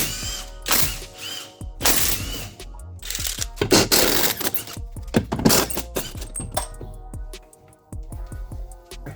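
Impact wrench driving a Sunex 12mm 12-point wobble impact socket on carrier bearing bolts of a 2018 Ford F150 during 10-speed transmission work, loud rattling bursts of hammering repeated several times with brief pauses between them.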